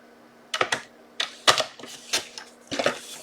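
Cardstock being trimmed for a tri shutter card, sharp clicking cuts in a quick cluster followed by spaced single snaps, close and crisp over a low hum, no talk.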